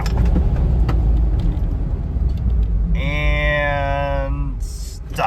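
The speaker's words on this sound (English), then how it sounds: "So there's the on-road braking test" A car with upgraded big brakes rolls on the road during a hard stop from 60 mph, tire and road rumble fading as it slows, followed by a rising tonal whine and a brief hiss near the end.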